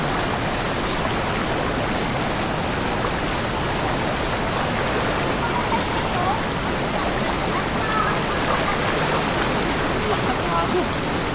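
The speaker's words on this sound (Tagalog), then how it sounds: "Lakas ang agos." A strong river current rushes at Daranak Falls in Tanay, Rizal, a dense, constant roar of flowing water that stays close and even throughout.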